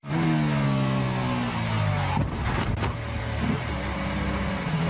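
A Formula 1 car engine runs in the F1 2016 racing game. The engine whines loud and close with a steady pitch, then briefly cuts and stutters midway before droning on.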